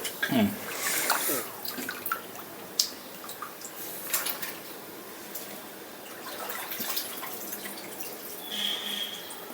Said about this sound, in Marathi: उकळी आलेली आहे तर हे सर्व वेपर्स या ठिकाणी आपण याच्यामध्ये टाकत आहोत